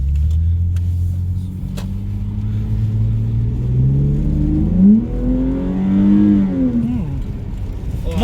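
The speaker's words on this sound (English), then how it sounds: "Let's jump in the car and see what she sounds like." A Lexus IS300 2JZ-GE VVTi engine fitted with a cold air intake revs repeatedly up close, its deep rumble climbing and falling in pitch over a steady idle, with no voices.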